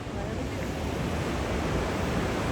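A waterfall at Grand Falls, New Brunswick roars in a steady, dense rush of water that holds at the same level the whole time, with no voices over it.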